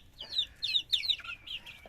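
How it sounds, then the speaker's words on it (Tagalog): Hens at a Muscovy duck and chicken pen cluck in a few short, bright bursts close by, fairly faint, with no talking. "ito rin yung mga sisi natin ng manok"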